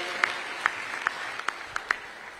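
Applause from the audience at a Nairobi aviation college graduation ceremony, a steady wash of clapping with a few sharper individual claps standing out, moderately distant and without talk over it.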